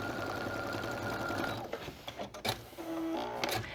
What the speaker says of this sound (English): Let's just sew a seam right down the middle.